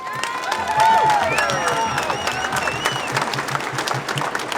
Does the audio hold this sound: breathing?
no